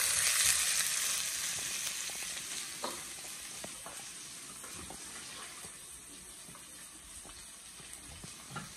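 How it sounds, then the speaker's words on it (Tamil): Green chili, garlic and onion sauté in sesame oil for a Sri Lankan fish curry, giving a steady, fairly quiet sizzle that starts louder and eases off, with a few faint scrapes of stirring and no talking. "இப்போ வெட்டி வச்ச பச்சை மிளகாய், உள்ளி, வெங்காயத்தை போட்டு நல்லா வதக்கிறோம்."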